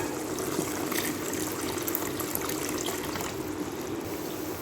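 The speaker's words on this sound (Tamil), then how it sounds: "குழம்பு நல்லா கொதிச்சு வருதுங்க." Mutton-less gravy boiling in a pot, a steady, close bubbling and simmering hiss that stays even throughout with no voices.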